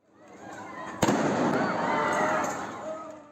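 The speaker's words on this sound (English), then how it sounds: "Here its fighters shooting a man in the leg." Gunfire from fighters shooting in a Gaza street: a sharp crack rings out, followed by dense, noisy crackling and commotion that fills the rest of the moment, loud and close.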